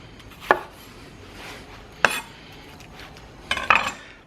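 An ENOKING chef's knife cuts through onion on a board for a vegan pizza: three sharp, separate chops spaced about a second and a half apart, the last a quick double strike, with quiet gaps between.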